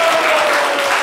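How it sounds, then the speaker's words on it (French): An audience claps for a young contestant named Grâce on a live midday show, a steady, dense burst of applause lasting about a second with no voices above it. "On applaudissez Grâce."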